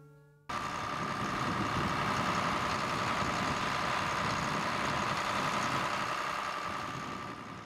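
Tractor engine running steadily while GPS auto steering guides it across a field during spring harrowing and rolling, a loud constant drone with a faint whine on top, unchanging throughout after a short quiet opening.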